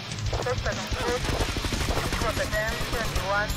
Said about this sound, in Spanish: están disparando, se escuchan los tiros más cerca.